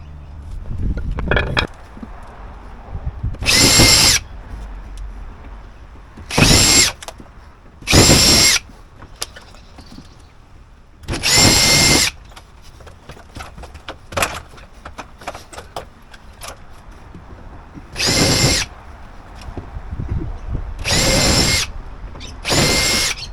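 A power drill undoes screws while silicone is being fixed to take water weight. There are about eight loud, separate bursts of whirring a few seconds each, with quiet pauses between them.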